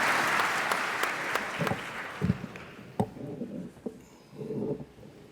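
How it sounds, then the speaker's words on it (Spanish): An audience applauds a speaker, the president of Salmón Chile, at a summit presidential debate. The clapping is full at first, then thins out into scattered claps and fades under a few low murmurs. "Arturo, presidente de Salmón Chile, un aplauso para él."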